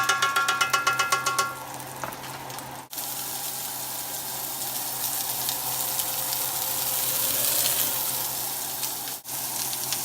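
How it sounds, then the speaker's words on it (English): Gardein vegan meatballs sauté in oil in a pan, starting with a few quick crackling pops and settling into a steady, close sizzling hiss. "I'm going to saute them up again, add some oil to your pan,"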